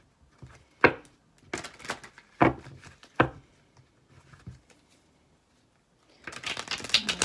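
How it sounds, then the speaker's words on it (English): Tarot cards being shuffled by hand give sharp, close riffling snaps in a loose rhythm, ending in a longer continuous shuffling flutter. "A good shuffle here so I know the cards that I pull are what's meant to be pulled for you."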